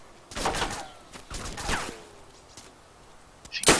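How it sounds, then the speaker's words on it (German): Bursts of video game gunfire crackle in short volleys, a couple of separated salvos and then a sharp shot at the end, fairly distant. "Schüsse."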